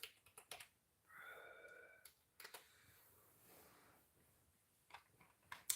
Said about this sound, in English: This is my keyboard.